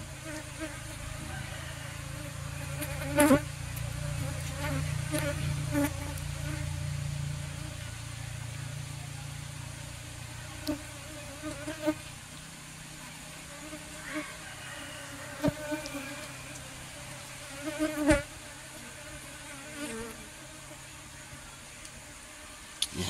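Bees drone around an open beehive box in a continuous, close buzz, with individual insects swelling louder as they pass near, while a person talks intermittently over it.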